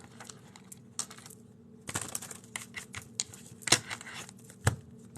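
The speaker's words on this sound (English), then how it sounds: "Sorry, I keep shuffling so I can get" Crisp riffling and snapping bursts of a deck of cards being shuffled, several quick flurries with sharp slaps, close by and fairly quiet.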